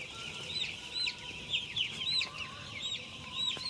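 Poultry chicks in a brooder on their second day, a flock giving a steady overlapping chorus of high, repeated peeping chirps, close and fairly loud, with no talk.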